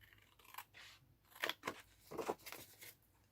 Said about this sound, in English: I'm just going to cut through the score lines and then cut this approximately in half.